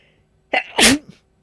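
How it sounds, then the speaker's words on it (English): A single sharp human sneeze, loud and close, with a short intake and a forceful burst that trails off, standing alone with no talk around it. "I've been periodically sneezing like that."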